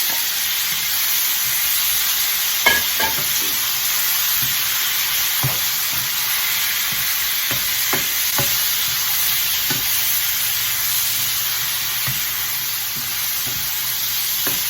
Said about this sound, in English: just so the spices start to come out of the ginger. Just gonna brown it just a slightly bit.